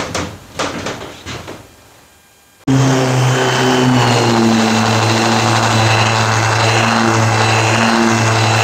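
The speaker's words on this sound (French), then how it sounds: "Allez, on va se remettre sur le ponçage." A power sander works over the exterior of a 4x4 heavy truck being converted into a camper, starting abruptly after a few light knocks and then droning loud and steady with a whining motor tone to the end.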